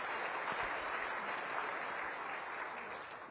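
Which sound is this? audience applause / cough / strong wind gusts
audience applause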